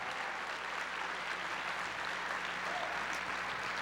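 An audience applauds a dance group after a performance, steady dense clapping throughout at moderate distance, with no voices standing out.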